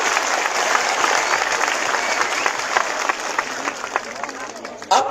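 A crowd at a Tipra Motha mass political rally claps in sustained, dense applause, loud and steady for several seconds before a brief drop and resurgence.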